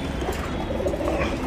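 A pair of Guldar Tiraval pigeons, one male and one female, coo softly and steadily at a moderate distance over a faint background hum, with no talking.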